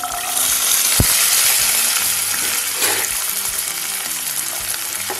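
Small shallots sauté in oil with fenugreek for a shallot kara kuzhambu, sizzling loudly and close, with a sharp metallic clink near the start and scraping stirs throughout.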